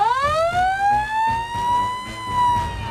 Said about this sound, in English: A working fire truck.